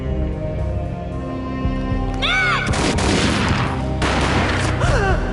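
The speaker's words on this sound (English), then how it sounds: "A gunshot boomed and she fell down in slow motion." A gunshot booms in the video game Max Payne 3, a loud blast with heavy low rumble that rings out amid a dense layer of game music and ambience, followed by a second crashing impact.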